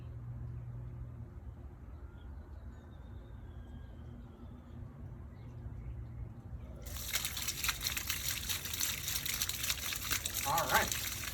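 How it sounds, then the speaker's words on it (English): Water trickling and splashing out of a lawn sprinkler system pipe, starting abruptly partway through as a steady, fairly loud hiss that continues to the end, with faint background noise before it. "we're going to turn the water on at the street very slowly to see if water comes out of this pipe"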